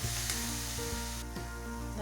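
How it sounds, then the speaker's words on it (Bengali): Jaggery being stirred in a pan as it melts gives a steady, close sizzling hiss with a few soft stirring scrapes, over a constant low hum. "এবার আমি নাড়তে থাকবো, যতক্ষণ না আমার গুড়টা গলছে ততক্ষণ আমি এটাকে ভালো করে নাড়তে থাকবো।"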